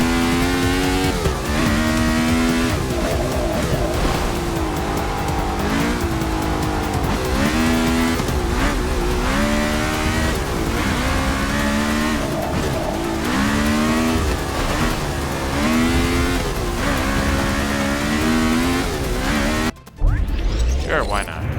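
Race cars drift around a track in the racing game Forza 6, a continuous loud engine drone that rises and falls with revving and tire squeal, with a voice talking over it before a brief drop near the end.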